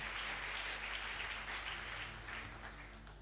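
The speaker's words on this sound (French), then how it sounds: "Quelqu'un acclame très fort pour le roi" A church congregation applauds, a faint, steady wash of clapping heard from a distance that slowly fades, with no speech over it.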